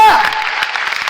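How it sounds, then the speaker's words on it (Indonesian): Church congregation clapping together after a call to praise God, a short dense burst of applause, loud and close, with voices mixed in. "Tepuk tangan bagi Allah kita."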